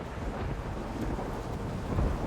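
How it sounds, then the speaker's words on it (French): Steady rain with a low rumble of thunder in the video game Death Stranding, a dense, even wash of sound with no voices. "Il pleut."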